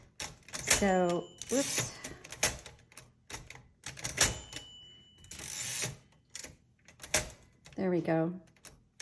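Glass-keyed 1947 Royal Quiet Deluxe typewriter clacks in short bursts of keystrokes and carriage noise on a non-slip pad, broken by pauses, with a person talking between the bursts.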